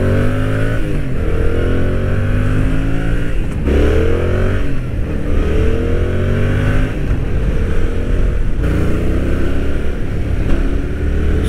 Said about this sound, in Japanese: ギアチェンジの時にはスコンスコンとねいい音が鳴って、気持ちよくねギアチェンジできますね